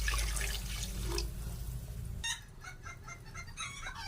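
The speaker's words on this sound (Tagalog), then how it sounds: "Tubig." Water splashes and pours steadily into a pot of chicken tinola, close by, then gives way to sizzling, crackling cooking sounds.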